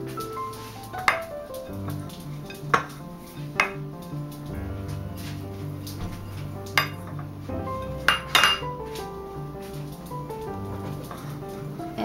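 Grated Monterey Jack cheese and diced onion being mixed in a bowl, with soft clinks and scrapes of a utensil against the dish repeating every second or two over a steady background hum.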